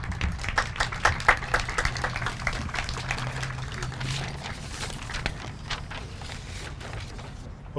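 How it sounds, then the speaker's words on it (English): Scattered outdoor applause for the Great Oak High School Marching Band at a Japanese garden rededication. Loose individual claps, strongest early on, then thin, uneven patter over a low background hum. "Let's give them another round of applause."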